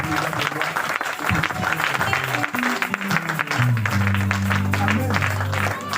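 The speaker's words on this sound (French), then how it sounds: "Dans le nom de Jésus, nous acclamons très fort pour le roi de gloire." Church congregation applauding and cheering in a dense, sustained wash of clapping, with low sustained tones from voices or instruments underneath near the end.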